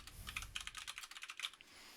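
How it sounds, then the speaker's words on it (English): Fast, steady typing on a computer keyboard, a close run of quiet, evenly spaced key clicks with no talking. "I could type a message here"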